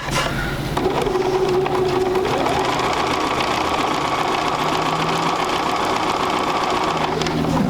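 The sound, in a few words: sewing machine stitching fabric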